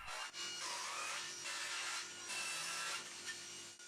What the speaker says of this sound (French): j'ai fait plusieurs passes avec la scie sur rail pour la traverser